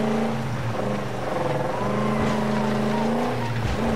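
Damaged car engine running rough in the Mad Max video game, a continuous loud droning whine with wavering pitch throughout.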